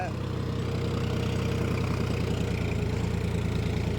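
A John Deere 5050 4x4 tractor engine pulls a five-tine plough, producing a loud, steady, low rumbling throb with a regular pulsing vibration throughout.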